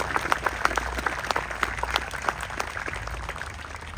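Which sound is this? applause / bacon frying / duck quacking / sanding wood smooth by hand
applause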